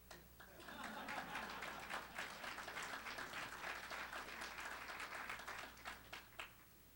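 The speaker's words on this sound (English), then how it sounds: "And you can applaud." Audience applause fills a conference hall during a policy plenary, a dense, steady wash of many hands clapping that swells quickly and holds for several seconds before tapering slightly.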